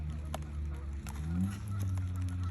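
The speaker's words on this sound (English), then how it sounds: "There's ducks over here." Several ducks give honking, quacking calls at a city park, with steady outdoor background noise under them and a low rumble throughout.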